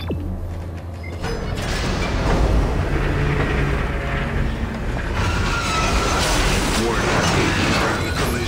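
A tram rolls along rails in Dead Space 3, a loud, steady mechanical rumble and clatter with sliding and clanking noises, with a voice talking over it.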